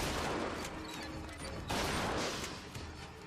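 Muffled gunfire in the BioShock Infinite first-person shooter video game, a steady wash of shots with a stronger burst midway, moderately distant and fairly quiet under game ambience.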